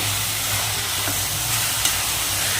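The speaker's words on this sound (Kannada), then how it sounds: "ಇದನ್ನು ಸ್ವಲ್ಪ ಫ್ರೈ ಮಾಡಬೇಕು ನಾವು" Spices, onions and turmeric fry in a pan for hurlimolake sambar, a continuous even sizzle with a soft stir or two, close and steady with no talking.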